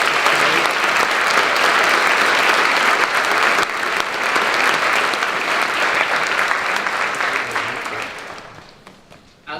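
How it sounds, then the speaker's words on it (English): Loud, sustained applause from a large audience at a National Honor Society induction ceremony, a thick wash of clapping that gradually thins and fades out near the end. "Please join me in thanking them with a round of applause."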